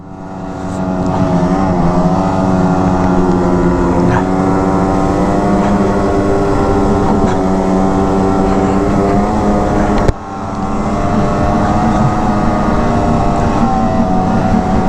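A 2020 Arctic Cat Riot snowmobile engine running loud and close, a sustained high-pitched two-stroke drone holding steady revs with a brief dip partway through, no talking.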